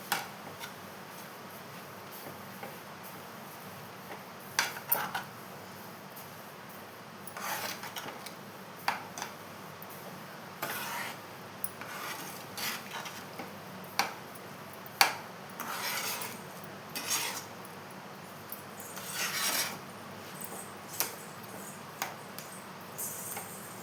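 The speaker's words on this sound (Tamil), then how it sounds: "இப்போ இதை கொட்டி நல்லா கலந்து விட்டுக்கலாங்க" Rava and sugar being stirred in a pan for rava kesari, with quiet intermittent scraping and clinks of a spoon against the metal over a low steady background, no voices.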